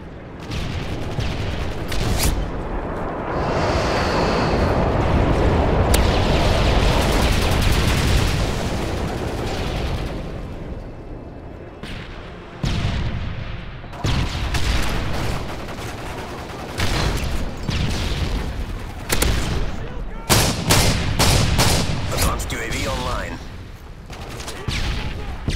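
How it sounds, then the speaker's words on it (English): Stealth airstrike bombs explode in Modern Warfare 3 over a long stretch of dense battlefield gunfire, with loud booms and rapid bursts of shots continuing throughout, broken by a short lull midway, while radio-style game voices speak. "Лидер, бомбы сброшены."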